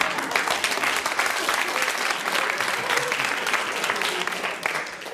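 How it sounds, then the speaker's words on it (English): A studio audience at the radio panel show Just A Minute breaks into sustained, dense applause, loud and even throughout before easing slightly at the very end. "If the audience clap those remarks,"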